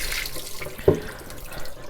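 Water runs steadily through dense porous MarinePure ceramic filter blocks during a rinse under a tap, a soft continuous splashing wash with one brief louder gush near the middle.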